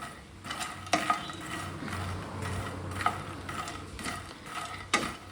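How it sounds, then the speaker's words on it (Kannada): Makhana dry roasting in a pan over a low flame, giving a steady rustling hiss with a few sharper scrapes and clicks as it is stirred, close and moderate in level. "ಇದನ್ನು ಡ್ರೈ ರೋಸ್ಟ್ ಮಾಡ್ಕೊಳ್ಳಿ ಫಸ್ಟು."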